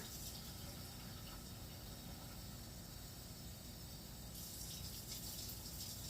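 Warm water runs steadily from a tap into a container for sourdough discard sandwich bread, a quiet, even gushing stream that shifts slightly in tone near the end.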